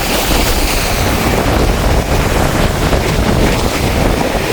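Rough storm surf crashes against the coast at Keerimalai, a continuous loud roar of breaking water churned by strong wind buffeting the microphone, with no voices.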